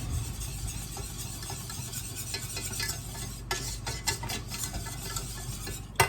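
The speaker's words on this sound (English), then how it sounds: "I'm going to stir this around, and I'm going to continue to cook this, whisking around until, again, it's a golden brown" A whisk stirs a flour and butter roux in a pot, cooking it toward golden brown for a creamy tomato basil soup; a steady low sizzle runs under repeated scraping strokes and a few sharper clinks against the pot, with no talking.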